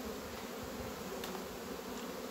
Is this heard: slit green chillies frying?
no